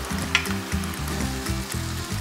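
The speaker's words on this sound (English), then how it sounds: "Oil up your pan. You can hear that sizzle." Oil sizzles steadily in a pan before a chickpea mixture is added, a close, continuous crackle with a few sharper pops and some faint clinking underneath.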